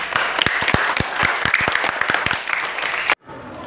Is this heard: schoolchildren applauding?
yes